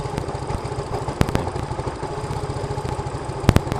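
A Yamaha Mio M3 scooter engine with a newly fitted injector runs close by in a steady, fast, slightly uneven idle, with a couple of brief metallic clatters.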